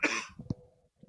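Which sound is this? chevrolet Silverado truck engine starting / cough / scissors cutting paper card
cough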